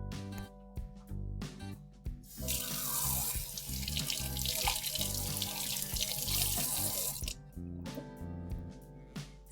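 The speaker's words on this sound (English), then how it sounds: "I'm going to wash my hands with our trusted Savlon hand wash." Tap water runs steadily into a sink as hands are washed with Savlon hand wash, splashing louder in the middle stretch, close and continuous without talk.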